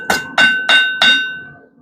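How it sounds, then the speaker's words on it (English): Four evenly spaced ringing hammer blows on an anvil as a blacksmith forges a hot dog fork, each strike loud and close with a bright metallic ring that decays before the next. "we're just going to progressively increase the strength of our hammer blow as we go down"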